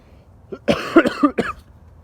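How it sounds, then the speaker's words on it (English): A short burst of several harsh coughs close to the microphone, three or four in quick succession, then quiet. "Man, sorry I keep coughing."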